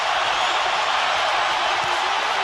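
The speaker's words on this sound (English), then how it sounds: "Crowd sensing the end is near, on their feet." A boxing arena crowd at the Golovkin versus Álvarez fight roars on its feet late in the bout, a loud, unbroken wall of cheering that holds steady from start to finish.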